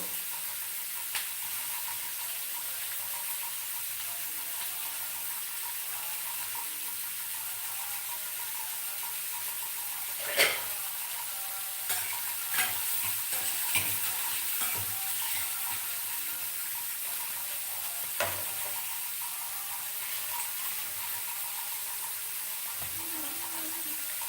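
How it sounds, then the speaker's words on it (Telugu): Onions tossed into hot oil and frying, a steady hissing sizzle held at moderate level, with a few sharp clicks and knocks of utensils scattered through it. "మొదట ఆయిల్ వేగగానే ఉల్లిపాయలు వేసేస్తాము"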